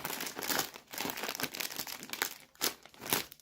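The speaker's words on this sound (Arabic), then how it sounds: "نفتح الكيس ده كمان" A plastic bag of Lulu cheese-flavored chips is torn and crinkled open at close range, with repeated bursts of sharp crackling and a few louder crumpling peaks.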